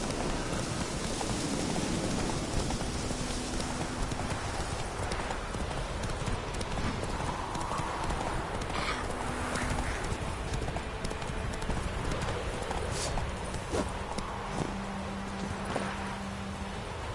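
A horse gallops in The Witcher 3 video game, steady rapid hoofbeats clip-clopping under a wash of ambient game noise and a faint neigh, with no talking.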